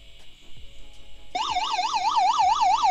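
An emergency LED lantern starts its SOS siren alarm after a few soft clicks, a loud, close electronic wail that warbles rapidly up and down without a break.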